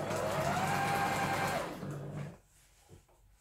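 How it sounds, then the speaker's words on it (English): A sewing machine runs steadily while stitching a seam on a lehenga, then slows and fades to quiet near the end. "We've sewn along the long edge, as you can see, and now what we want to do is sew down here."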